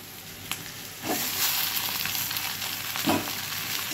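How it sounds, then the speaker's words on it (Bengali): Boiled chow mein noodles stir-fry with Maggi masala in a pan, a bright continuous sizzle rising in intensity with a few stirring clanks. "চাউমিনগুলো দিয়ে সুন্দর করে নাড়িয়ে নাড়িয়ে ভাজবো"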